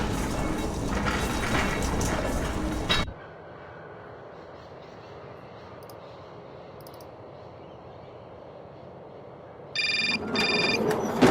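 A telephone rings in the adventure game Syberia, with short bursts of bright, buzzy ringing near the end after a stretch of quiet background, following earlier game music or ambience.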